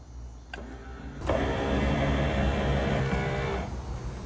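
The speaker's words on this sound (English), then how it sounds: "We're gonna put up the antenna on the car." A power antenna motor on a Ferrari Dino whirs as it extends, a steady mechanical drone lasting a little over two seconds after a click, then tapering off, close and fairly quiet.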